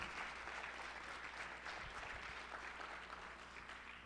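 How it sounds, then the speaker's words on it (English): Faint, distant applause from a school convocation audience, a soft continuous patter of clapping held under a low hum for several seconds. "Let's give these 7 students a round of applause for coming out here."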